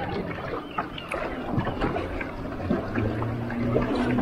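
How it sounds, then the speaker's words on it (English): Water lapping against the hull of a Feelfree Nomad kayak in Ladram Bay, close gentle slaps and sloshes over a steady watery wash, with a faint low hum underneath. "Love the sound of the water lapping up."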